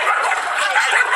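A shrill, strained yelp comes from a dog on a leash after a police officer kicks it, a single loud, close cry lasting about a second.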